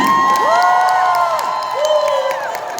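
A loud crowd at a company rally cheers and shouts together, high excited voices rising and falling in a sustained roar with whoops, nearby and energetic.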